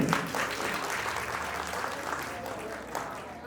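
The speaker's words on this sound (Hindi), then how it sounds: "तो एक बार जोरदार तालियां" An audience at a farewell tribute ceremony breaks into loud, sustained applause that starts strong and slowly tapers over a few seconds, with a voice speaking over it.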